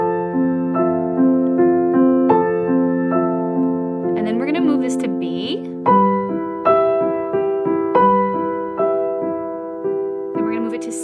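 Beginner piano arrangement of a piece from Interstellar, both hands playing a steady repeating arpeggio figure with sustained bass notes, close and clear, with a brief spoken instruction over the playing.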